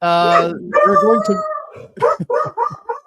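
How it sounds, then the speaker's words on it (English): Two excited dogs bark and howl close by, a long drawn-out howl at the start followed by a quick run of sharp, yipping barks. "dog sitting two dogs that are getting a little excited"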